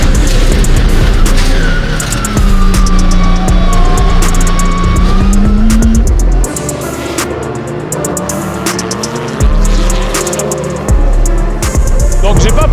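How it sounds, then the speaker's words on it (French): Porsche flat-six rallycross race car lapping a circuit, its engine loud and close, revving up and down with gear changes and tire noise, a voice heard over it at times. "C'est fou d'avoir une Porsche sur un circuit comme ça"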